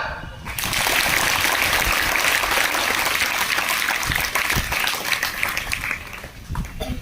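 Loud, sustained applause from a school audience at a welcome ceremony for new students, dense clapping filling the hall for several seconds before thinning slightly toward the end.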